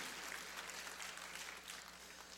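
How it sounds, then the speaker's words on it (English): Faint, steady clapping from a summit audience, a dense patter of many hands that holds at an even level for a couple of seconds, heard from a distance with no voices over it. "Give them a round of applause."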